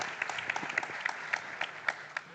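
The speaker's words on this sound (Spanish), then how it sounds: "no voy a obstaculizar un aplauso," A seated audience at a cultural forum debate on science and belief gives a sparse, faint round of applause, individual claps standing out in a slightly distant hall.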